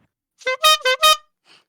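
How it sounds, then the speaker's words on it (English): An unmuffled vehicle horn gives a short burst of three or four loud, bright honks in quick succession, followed by a faint trailing tone. "can we get one last honk of the horn before you go?"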